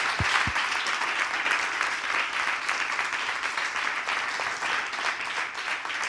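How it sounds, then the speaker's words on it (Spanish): Sustained applause from a large audience at a public healthcare rally, steady dense clapping filling the space for several seconds with no voices breaking through. "un aplauso, por favor"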